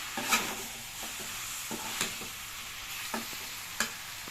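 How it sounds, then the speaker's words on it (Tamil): Chicken chukka with pepper, cumin and salt being stirred in a pan, soft sizzling underneath with a few sharp scraping strokes of the spatula spaced about a second apart, fairly quiet. "இது நல்லா வதக்கிடலாம்."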